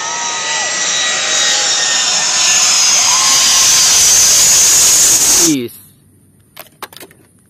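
A high, whining toy airplane engine hums loudly and steadily for several seconds, then cuts off abruptly, leaving a few faint clicks and handling sounds.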